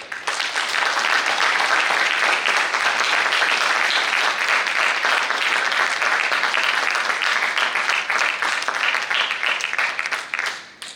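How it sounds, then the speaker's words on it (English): An audience applauds steadily at a Toastmasters club installation ceremony for a new executive committee. The clapping is loud and dense, holds for about ten seconds, then tapers off at the end. "You may applaud now."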